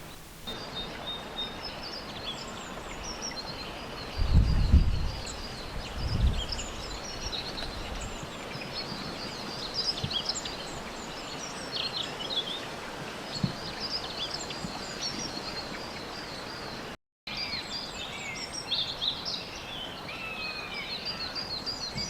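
A long-tailed tit forages among fresh leaves on a dog rose bush, giving thin, high, scattered calls in a spring setting. A couple of louder rustles or knocks come early, with quiet outdoor background throughout.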